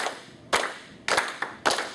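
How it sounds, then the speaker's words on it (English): Hands clap sharply in a short, uneven rhythm during a classroom music lesson: four distinct close claps spaced irregularly over two seconds, with quiet gaps between and no talk. "I'm going to clap the rhythm and you clap the steady beat."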